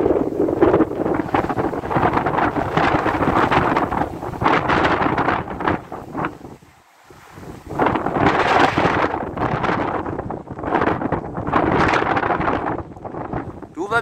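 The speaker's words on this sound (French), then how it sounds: "Les rafales qui passent derrière moi!" Strong storm wind gusts roar against the microphone in loud, buffeting surges, easing into a brief lull midway before blasting back in, in Valence, Drôme.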